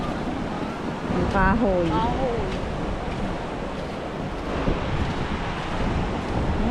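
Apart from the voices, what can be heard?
waves on the beach at San Diego Beach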